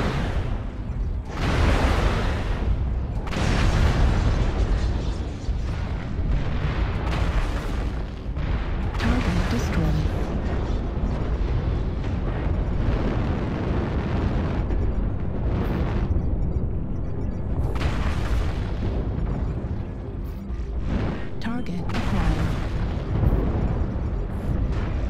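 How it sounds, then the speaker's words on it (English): Missile explosions in the video game MechWarrior Online: repeated loud booms and blasts rolling one after another over a continuous rumbling battlefield din for about 25 seconds, with speech over part of it. "I'll throw some missiles"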